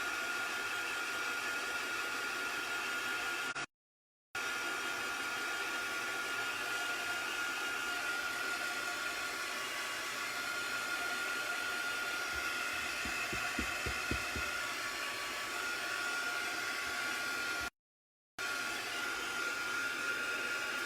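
Heat gun blowing steadily on ink at a craft table, a loud constant whirring hum that runs throughout with two brief cut-outs and some faint thumps near the middle.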